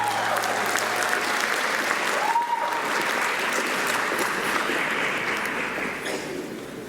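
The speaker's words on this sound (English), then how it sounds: "Can we give a round of applause to all those granted award winners?" Graduation crowd at CÉGEP Heritage College bursts into sustained applause, a thick wash of clapping that holds steady and then begins to thin out toward the end.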